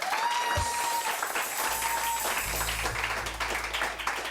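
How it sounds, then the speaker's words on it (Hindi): Studio audience applause on a Pakistani morning show, dense sustained clapping that fills the whole stretch, with a tone and low hum underneath. "तालियां।"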